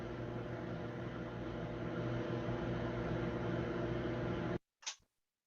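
A microwave oven reheating one cup of coffee hums with a steady, fairly loud whir, then cuts off abruptly, followed by a single sharp beep in the quiet.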